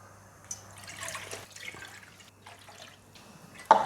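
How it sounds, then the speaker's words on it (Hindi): Water is poured steadily into a cooking pot, four cups for a vegetable soup, with a soft splashing, trickling flow of moderate loudness and a few clinks and a sharper knock at the end. "सबसे पहले यहाँ हम 4 कप पानी शामिल करेंगे।"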